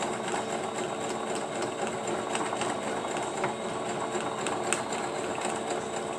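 Sewing machine back stitching, a steady close mechanical whir with fine rapid needle ticking that holds loud and unbroken for the whole stretch.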